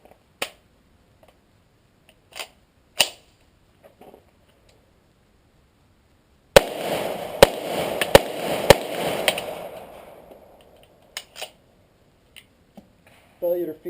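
A Taurus CT9 carbine fed from a Colt SMG magazine fires a quick string of sharp, loud shots, and a failure to feed follows. Scattered clicks and handling noises come before and after the shots.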